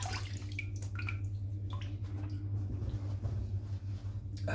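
Water splashes and drips close by as a face is rinsed after shaving, with a steady low hum of running water beneath irregular splashes.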